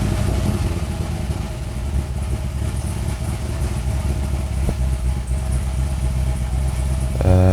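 A car engine runs steadily during a misfire scan with HP Tuners, a loud continuous mid-low rumble with slight uneven clatter, alone without talk, swelling briefly at the end.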